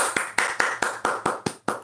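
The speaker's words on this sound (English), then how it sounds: "Let's give Zen a round of applause." Audience applause at a comedy podcast taping, sharp regular claps in a steady rhythm, about eight distinct claps, fairly close and moderately loud with no talk.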